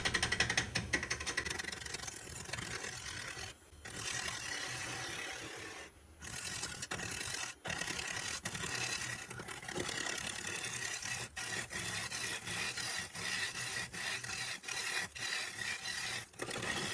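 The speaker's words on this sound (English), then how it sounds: "Using the Hercules carbide cutter here, great little tool for roughing out, just taking the bowl to its round." Wood lathe roughing out a bowl, a platter blank cut with a Hercules carbide cutter: continuous close scraping and rasping with a steady machine hum, broken by brief pauses as the tool lifts off the wood.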